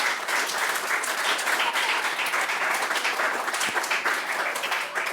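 Church congregation applauding as an offering of praise, steady dense clapping filling the room at even loudness throughout, with no voices over it.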